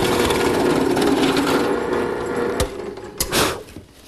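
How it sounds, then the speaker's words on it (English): Router fitted with a half-inch radius roundover bit shaping the edges of a redwood piece for a chaise lounge, a steady loud whine running continuously, dipping near the end with a couple of sharp knocks. "A half-inch radius roundover bit takes care of the edges."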